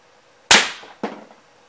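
A Crosman 150 air pistol fires a cast wadcutter pellet: one sharp, close crack followed about half a second later by a softer second snap, likely the pellet striking, over a quiet background.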